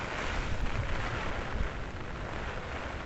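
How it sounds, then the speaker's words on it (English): Heavy typhoon rain from Typhoon Merbok pours over Victoria Peak in Hong Kong, a dense, steady roar of rain and gusting wind buffeting the microphone, loud and unbroken with no talking. "So the city has just disappeared in this heavy rain."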